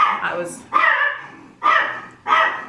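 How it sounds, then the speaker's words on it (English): A pet dog barks indoors, with four loud, close barks spaced roughly evenly over a few seconds, each dropping off into a short tail before the next. "My dog likes to interrupt my videos."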